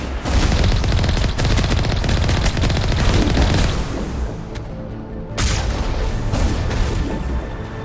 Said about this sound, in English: that thing is shooting